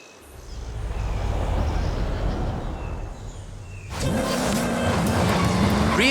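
A rear-wheel-drive car with a 6.2-litre V8 making 750 bhp in Forza Horizon 5 rumbles steadily, then the engine note rises sharply into a louder, revving climb with tire squeal near the end.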